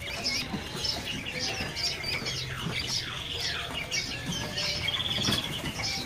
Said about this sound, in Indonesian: Di kios ini ada burung pelanduk semak ya.